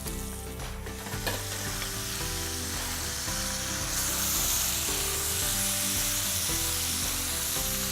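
Pork searing in rendered pork fat in a pan, a loud continuous close sizzle and crackle with occasional scraping, no talk.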